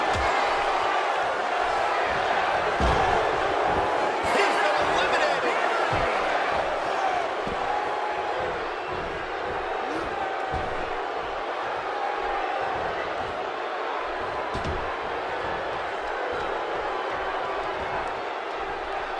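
Steady roar of an arena crowd cheering during a WWE wrestling battle royal, continuous and loud throughout with occasional sharp impacts and shouts.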